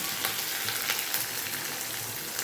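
Ground coconut paste hits hot oil for a Kerala avial, giving a steady, close frying sizzle with crackling pops throughout.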